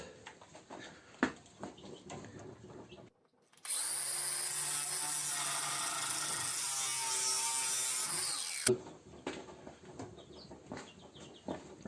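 A power saw cuts a piece of wood to 29 cm, running loud and steady for about five seconds, with quieter handling noises before and after.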